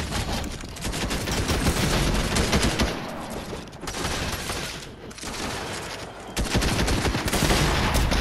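SMG fire in Fortnite, loud dense bursts of rapid shots in several long volleys separated by brief gaps, close and aggressive with no talk over it.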